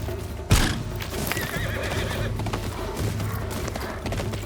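Frightened horse in the video game Ghost of Yotei, a sharp loud whinny bursting out after a moment, followed by hoofbeats and busy game background noise.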